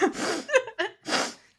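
A single close sneeze, with a sharp intake of breath and a short build-up before an explosive burst, then a trailing breathy release.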